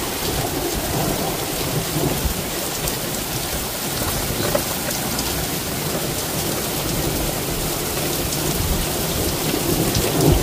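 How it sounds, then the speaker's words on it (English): A heavy thunderstorm over Cheltenham, Gloucestershire, with wind picking up: dense, loud rain pours steadily while low thunder rumbles continuously underneath, with no voices over it. "Yeah, this is a serious storm."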